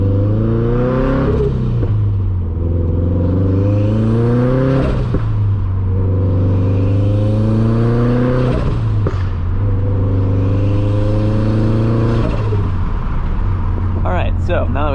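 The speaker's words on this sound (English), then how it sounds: "we are now getting out of the driveway and we're gonna go driving" Turbocharged Subaru BRZ pulling out of a driveway, its engine note rising and falling in repeated revs as it drives, with a steady low rumble throughout and a person talking over it.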